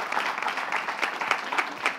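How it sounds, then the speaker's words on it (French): Steady applause from a television studio audience in Togo, a dense patter of clapping that holds at an even level throughout. "on te donne d'applaudissements pour M."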